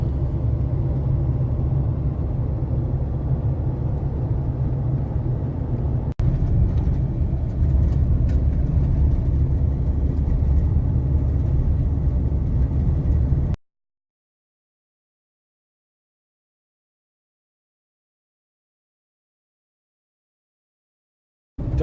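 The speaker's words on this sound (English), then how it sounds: "we've got the camper trailer on, Kim and Carolyn are back there somewhere, and we're just taking this nice little bit of a drive" A car towing a camper trailer along the outback Mundal Track gives a steady rumbling drive noise with a brief knock partway through, then cuts off abruptly into silence.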